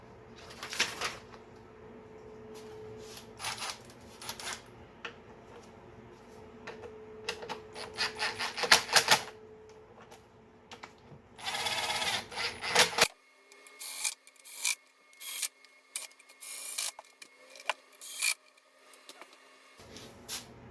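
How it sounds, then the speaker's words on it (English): A torque wrench tightening intake manifold bolts on a Lincoln 3.7L engine gives close, quiet ratcheting clicks and metallic rubs in short bursts, with a steadier run of clicks toward the end. "We'll torque it down to the right spec."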